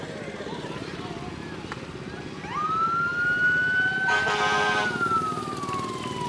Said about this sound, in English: another fire truck, a tanker